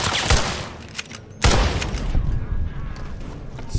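A turret blasting away in Fallout's Tale of Two Wastelands, a loud opening shot followed by a second heavy blast and a rumbling, echoing barrage that trails on steadily, with faint voices underneath.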